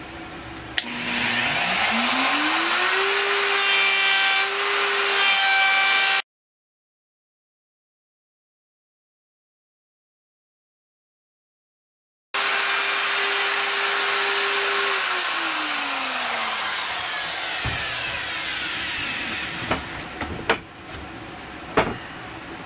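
A router fitted with a bearing-guided bit cuts a board along a template for a DIY plyometric box, giving a loud sustained whine whose pitch shifts as the motor spins up and winds down, broken by a silent gap.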